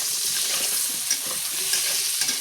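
Pieces of hilsa fish frying in oil, close and steady: a constant hissing sizzle with scattered small pops and crackles, and no talking.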